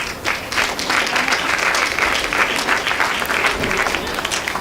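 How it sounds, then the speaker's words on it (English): An outdoor Memorial Day ceremony audience gives a sustained round of applause, dense and even clapping from many hands holding steady from start to finish without speech. "Please give yourself a round of applause for being here."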